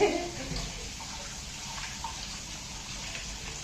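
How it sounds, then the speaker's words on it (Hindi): Pasta rinsed under a stream of filtered Aquaguard water in a kitchen, a steady broadband rush of running water that holds evenly throughout, fairly close and continuous with no talk over it. "अब हम इसको थोड़ा सा एक्वागार्ड के वाटर में नहला देंगे।"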